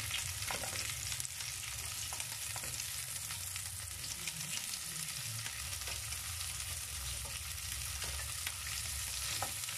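Hamburger meat and onion frying in a pan, a steady close sizzle with occasional stirring scrapes throughout, and no voices.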